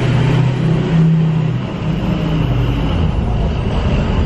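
Loud truck engine rumbling between storage buildings, a heavy, steady roar with a brief rise in pitch near the start, echoing close by without speech.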